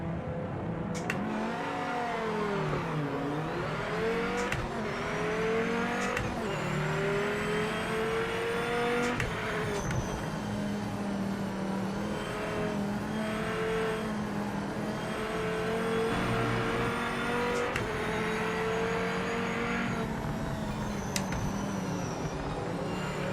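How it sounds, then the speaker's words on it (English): A Chrysler Viper race car engine in PMR, revving and shifting continuously up close, with steady rising pitch sweeps between gear changes and no talk over it. "Right now I'm driving the, I think it's the Chrysler Viper."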